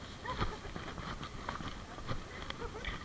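A ridden horse's hooves clop in an uneven, fairly quick rhythm at moderate distance, with faint voices murmuring in the background.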